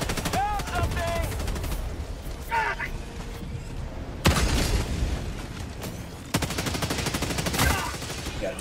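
Bursts of gunfire from Helldivers 2 combat on the Automaton front, with rapid automatic volleys and heavy booms cutting in loudly over ongoing game noise while players talk.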